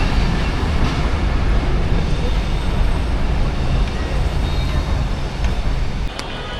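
A train rolls past at close range on a busy line in Dhaka, Bangladesh, with a steady loud rumble and clatter of wagons filling the whole stretch before easing off slightly near the end.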